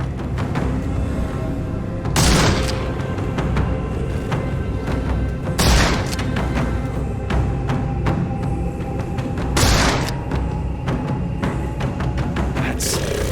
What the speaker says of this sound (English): I can shoot the ropes holding a few of those poor souls